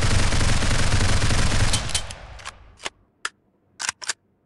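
An AR-15 rifle in the mobile shooter Critical Ops fires a sustained full-auto burst, then a few short separate shots ring out after it, each followed by a quick decay.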